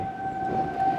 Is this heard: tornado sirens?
yes